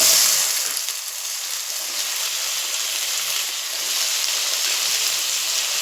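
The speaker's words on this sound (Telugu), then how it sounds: "కొంచెం పచ్చి వాసన పోయేలాగా వేపుకోవాలి నీట్గా ఆయిల్లో." Tomato, onion and whole spices fry in oil in a pan with a steady, close hiss of sizzling that continues evenly throughout, with no talking.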